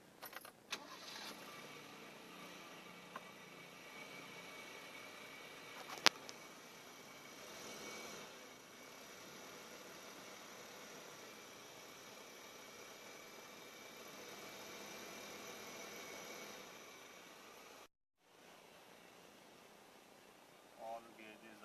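A 1993 Toyota Liteace with a 5K gasoline engine, freshly overhauled, runs steadily through its first startup, a continuous engine drone heard close up with keys jangling, one sharp click and a brief dropout near the end.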